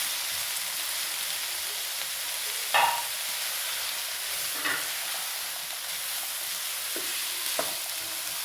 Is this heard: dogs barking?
no